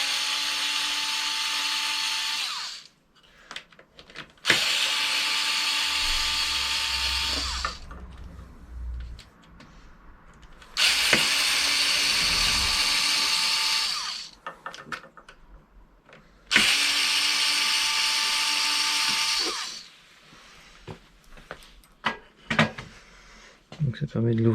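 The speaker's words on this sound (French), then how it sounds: "pour rentrer le connecteur à l'intérieur, il faut dévisser votre deck" A power screwdriver unscrews the deck of a Xiaomi M365 Pro electric scooter in three loud, close whirring bursts of several seconds each, separated by quieter pauses with small handling clicks.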